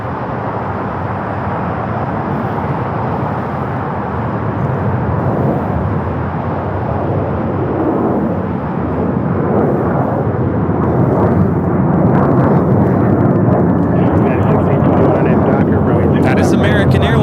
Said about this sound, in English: That is American Airlines 238 taking off to JFK on the A321.